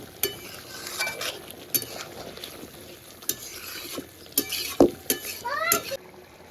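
A spoon scrapes and clinks against a pan while egg curry with garam masala powder is stirred, with irregular sharp taps and scrapes over a faint sizzle.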